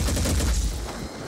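Rapid bursts of gunfire from shooting in the tactical video game Phoenix Point, dense overlapping shots with a booming low end, loud and close, no voices.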